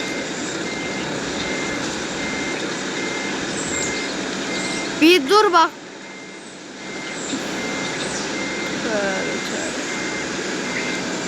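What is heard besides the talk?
bus reversing beeps in a bus video game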